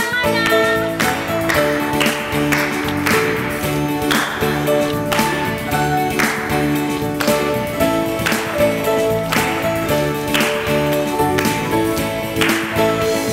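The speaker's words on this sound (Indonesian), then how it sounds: "Tepuk tangannya." Rhythmic clapping at a children's online worship service, steady on the beat over loud sustained song music, the claps regular throughout and partly blended into the accompaniment.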